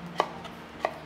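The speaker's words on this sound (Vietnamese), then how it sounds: "xong rồi chúng ta sẽ thái lát mỏng chéo như này" A knife slicing vegetables thinly on a diagonal for a vegetarian noodle salad: two crisp, separate chops on a cutting board about half a second apart, close and clear in a quiet kitchen.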